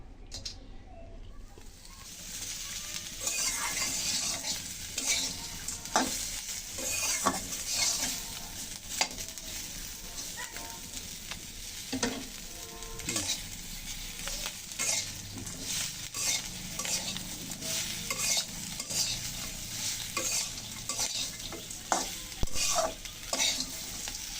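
Onions fry in hot oil in a pan, a constant sizzle broken by frequent scraping and clinking as a spoon stirs them, close and steady throughout.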